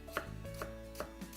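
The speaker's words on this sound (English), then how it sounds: "Let's cut these last pieces up" A knife chops apples on a cutting board with four crisp, evenly spaced strikes. The sound is close but quiet, with nothing else behind it.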